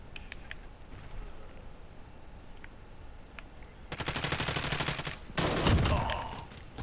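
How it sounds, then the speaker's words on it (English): Gunfire in a hardcore multiplayer match of Call of Duty Modern Warfare: after a quiet stretch with a few faint pops, two loud, rapid automatic bursts rattle close by, one right after the other. "that gunfire,"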